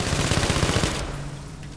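A machine gun fires in a game, an MG spitting rapid, evenly spaced shots for about a second before the burst stops, leaving only a low hum.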